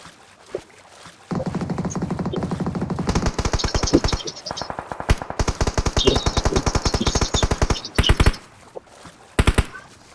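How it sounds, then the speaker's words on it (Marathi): Rapid automatic gunfire in a video game shooter, with bullets striking a rock, rattles in loud bursts, a long sustained volley then shorter stuttering runs, with brief pauses between them. "माझे गोळ्या या दगडाला लागतायत पण त्याचे गोळ्या मायावरती कनेक्ट होतात आहेत"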